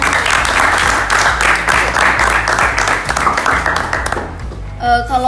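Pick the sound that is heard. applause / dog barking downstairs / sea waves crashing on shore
applause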